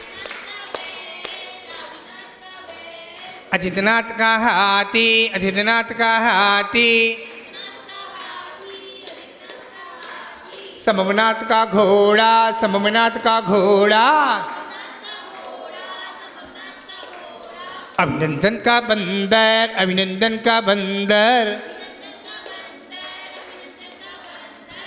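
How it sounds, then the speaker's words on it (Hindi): Rhythmic group clapping keeps time with a call-and-response Jain devotional chant at a religious gathering, loud bursts alternating with stretches of singing voices; children and adults chant throughout. "ताली बजाएंगे"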